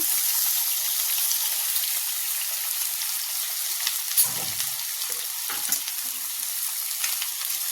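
Potato pieces frying in oil with mustard seeds and cumin, a steady bright hiss with a few spoon scrapes and taps against the pan.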